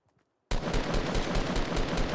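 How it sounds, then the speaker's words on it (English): Video game gunfire from a battle royale style shooter on PS4 Pro: sudden onset after a near-silent half second, then a loud, rapid automatic burst of shots rattling continuously to the end. "That was some good shooting, boys"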